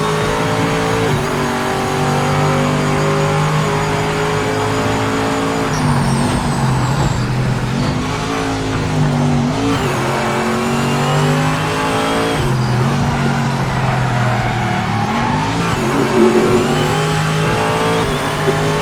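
Virtual C6 Corvette on the Nürburgring GP circuit in a racing game, its engine roaring loud and steady, rising through the revs with several brief dips at gear changes and a short squeal of tires near the end.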